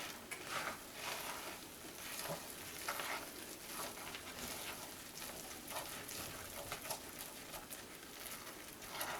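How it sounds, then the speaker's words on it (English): Hot-process soap being stirred in a crock pot gives a steady, dense wet scraping and bubbling texture that runs unbroken for the whole stretch at moderate level, with no voices. "So I'm just going to stir that up."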